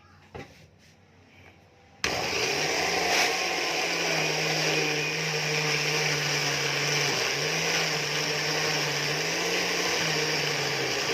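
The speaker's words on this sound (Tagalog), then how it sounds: "I-blender natin ngayon yung ating naipon na dahon." After a brief quiet moment, a blender roars to life and grinds madre de cacao leaves with mineral water, a loud, steady whirring drone with slight pitch dips as the load shifts.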